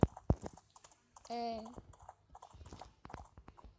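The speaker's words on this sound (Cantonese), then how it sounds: "隻馬太嘈啦" A short horse whinny rises partway through Minecraft gameplay, among quick clicking and tapping sounds and brief bits of talk.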